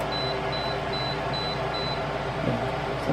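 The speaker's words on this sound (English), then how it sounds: "something's beeping" A temperature meter beeps five times in an even rhythm, short thin tones over a steady background hum from a stainless steel food dehydrator.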